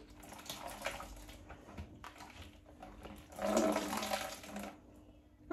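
Water dripping and trickling from wet curly hair is caught in a basin, a soft, close splashing patter that swells into a fuller pour midway and then fades.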